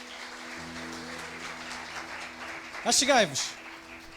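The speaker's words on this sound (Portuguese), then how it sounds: "Uma salva de palmas para eles." A church congregation gives light applause for people called forward during a sermon, a soft clapping wash under the pastor's voice, with a brief high-pitched vocal outburst midway.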